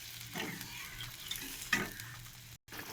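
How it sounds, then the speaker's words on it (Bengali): Curry gravy bubbling at a boil in a pan, a soft steady simmer with a few louder bursts and spoon scrapes against the pan, close and fairly quiet, with a brief dropout near the end. "দেখো ঝোলটা ফুটে গেছে"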